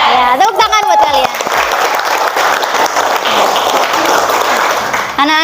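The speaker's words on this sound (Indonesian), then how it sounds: "Ya, tepuk tangan buat kalian." Applause from a class of students breaks out right after a teacher's voice and continues as steady dense clapping for about four seconds before speech returns at the end.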